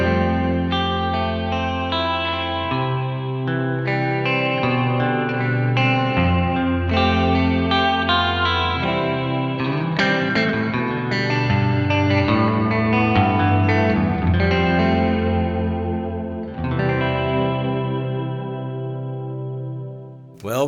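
An electric guitar runs through a plate reverb pedal in a mini box, playing a long flowing passage of notes and chords whose tails bleed together into a lush, sustained wash, close and steady throughout.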